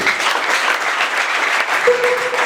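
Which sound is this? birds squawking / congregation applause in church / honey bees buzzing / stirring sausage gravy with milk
congregation applause in church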